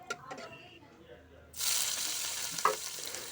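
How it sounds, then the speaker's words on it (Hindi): Near silence with faint clinks gives way to a sudden loud sizzle as onion drops into hot oil with browned cumin, then a sustained crackling fry with a sharp scrape of stirring. "जैसे ही जीरा ब्राउन होता है तुरंत इसमें प्याज डाल देंगे"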